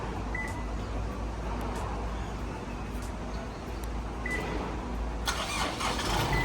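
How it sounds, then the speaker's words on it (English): A car in Thailand starting by remote automatic start, the engine cranking and catching into a steady close idle, with a brief rise in revs near the end. "I just never had a car with automatic start from outside the car before"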